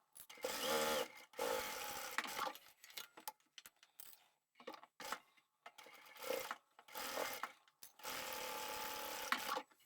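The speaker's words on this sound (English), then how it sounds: "place my needle down into the fabric and then sew" A sewing machine stitches through fabric for a small craft tote, running in several short bursts with backstitching and pauses, near and fairly quiet, with no voices.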